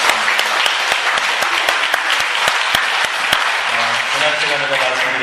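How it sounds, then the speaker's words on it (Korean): A church congregation claps during a morning worship service, giving loud, sustained, steady applause from many hands filling the room, with a voice speaking over it near the end. "하나님께 영광의 박수 올려드리겠습니다"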